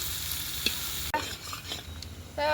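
Chopped onion hits hot oil in a pan with whole cumin and chilli, then sizzles steadily while a spoon stirs and scrapes, close up with no talk.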